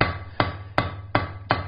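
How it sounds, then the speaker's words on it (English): A heavy forging hammer, a little over 3 pounds, strikes steel for a ball end coat and hat hook, landing five sharp, evenly spaced blows about every 0.37 seconds over a steady background hum. "It's kind of a heavy, it's a little over 3 pound hammer I'm using."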